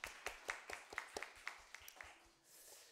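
A church congregation claps in thanks during a Sunday worship service, a quiet run of sharp, fairly regular claps from a small group that thins out and fades after a couple of seconds.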